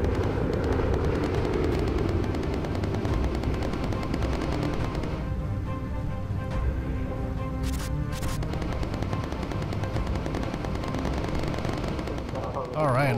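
Machine guns fired by bomber gunners in the video game Bomber Crew, loud rattling bursts over a constant engine drone and dense game noise, continuing through the stretch.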